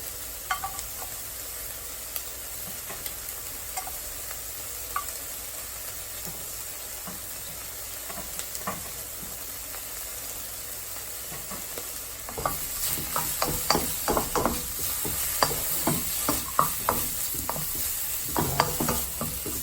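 Garlic sizzles and crackles in a frying pan as it is stirred, a steady low hiss with scattered scraping taps that grow busier and louder in the second half, with no talking.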